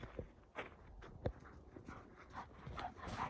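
Dogs pant and move about in deep fluffy snow, soft breathing with a few light steps and thumps, quiet and close.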